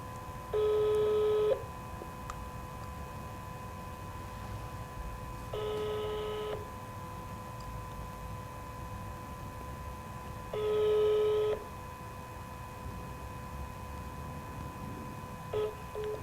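A phone call goes unanswered, with three evenly spaced ringback or busy-style tone bursts of about a second each separated by long quiet gaps over faint line hiss.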